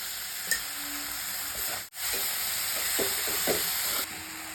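Chopped tomatoes with salt cooking in a pan for chana masala, a constant close sizzle and hiss with a few light stirring scrapes and taps, unaccompanied by speech.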